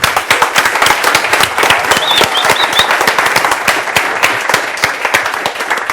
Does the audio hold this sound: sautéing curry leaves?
no